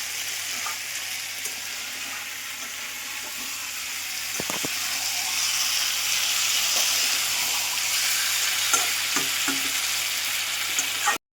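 Chicken masala in a pan just after hot water is poured in, bubbling and sizzling in a steady, close, dense hiss, with a few light clicks and knocks toward the end.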